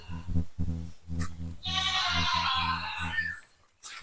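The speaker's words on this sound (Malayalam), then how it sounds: "ആട്" A goat at a zoo or animal park in Malaysia bleats several times in quick succession, close and fairly loud, with one long wavering cry in the middle.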